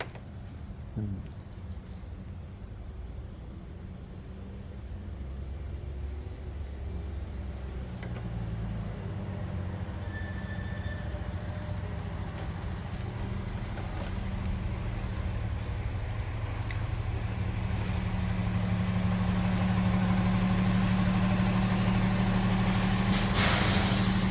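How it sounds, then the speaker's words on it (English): A clattering diesel truck idles outside an auto repair bay, a steady low rumble with air-brake hiss that grows louder and fuller over time, with faint voices in the background. "For some reason, we got a clackety ass diesel outside of my bay."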